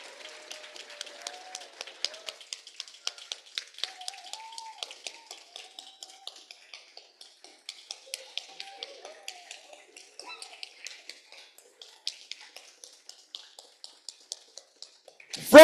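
Scattered clapping from a small audience thanks the panelists at an anti-war activist gathering, producing sparse, uneven, fairly quiet claps spread across the whole stretch, with faint voices in the background.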